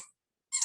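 A dog squeaks a squeaky toy indoors, giving two brief, faint high squeaks separated by a short silence.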